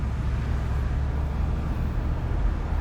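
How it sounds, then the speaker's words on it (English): A 1985 Chevrolet El Camino SS with a V8 engine is heard from inside while driving, with a steady low grumble blended into continuous broadband road noise, with no talking. "we got a little bit of road noise, but the grumble out of this little V8 is sweet"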